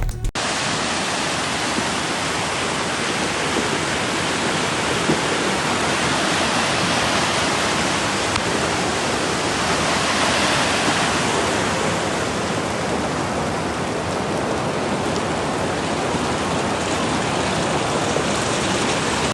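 Rushing floodwater from a mudflow after heavy rain near Gulcha in the Alai district, a dense, steady roar of churning water that stays loud and unbroken throughout, with no voices.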